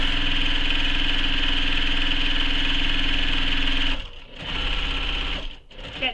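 A sewing machine back stitching the corners of a cloth tote bag, running loud and steady with a fast mechanical whir, then stopping and starting again in two short bursts.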